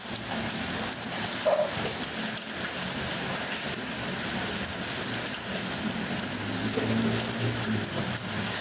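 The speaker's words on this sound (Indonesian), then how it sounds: "Hujan." Steady rain falls throughout, a continuous broadband hiss at moderate loudness with no talk over it.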